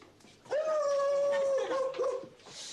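A dog gives one long, drawn-out whining howl that wavers and fades near the end, fairly close and alone, with faint room noise around it.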